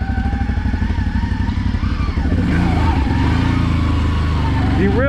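A CFMOTO CFORCE 800 ATV fitted with an aftermarket clutch kit, crawling a tight trail in low gear in four-wheel drive. The engine chugs at low revs with a pulsing beat, then swells to a louder, steady drone.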